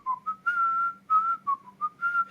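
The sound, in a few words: whistling from Whistle While You Work, Snow White film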